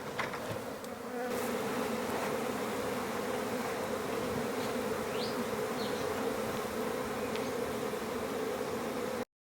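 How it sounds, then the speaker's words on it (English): A dense, steady buzzing of a large honey bee swarm fills the air, continuous and loud throughout with no voices. "There's probably 200 bees in front of the hive now"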